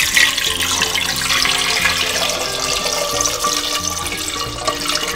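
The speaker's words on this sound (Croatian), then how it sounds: "Sipala sam vodu da prekrije jaja." Water pours steadily into a pot over eggs about to be dyed naturally with beetroot for Easter, a continuous loud splashing rush that goes on without a break and with no speech.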